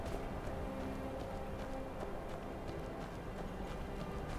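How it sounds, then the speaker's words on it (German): Horse hooves clip-clop steadily in the video game Skyrim, a continuous walking rhythm of light, even beats heard alone at moderate level. "Pferd, wem gehörst du? Kann ich dich stehlen, oder?"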